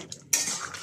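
A spoon clinks and scrapes against a pot while stirring spicy duck curry with garam masala and roasted cumin powder, a short quiet scrape followed by louder, steady metallic stirring.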